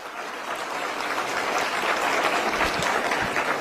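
Sustained applause from a crowd at a Delhi public event attended by the Chief Minister and ministers, dense steady clapping that swells slightly and holds at a moderate level with no voices.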